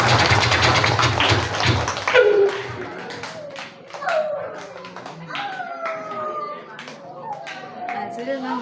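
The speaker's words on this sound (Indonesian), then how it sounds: "Tepuk tangan buat adik-adik semuanya." Children clapping their hands at an elementary school Maulid Nabi celebration, a dense burst of applause in the opening two seconds that fades as voices and chatter take over.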